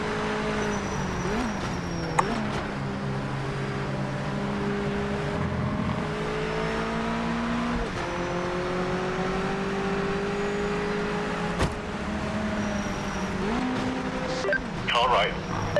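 A Mazda race car engine in Project Motor Racing on PS5 drones loudly through repeated gear changes, each shift breaking the pitch before it climbs again, while someone talks over it.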